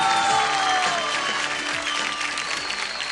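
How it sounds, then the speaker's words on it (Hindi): A studio audience at a singing competition elimination breaks into steady applause for contestant Sugandha, a broad wash of clapping that slowly eases off. "मैं चाहूंगा एक बार उनके लिए भी जोरदार तालियां हो जाएं"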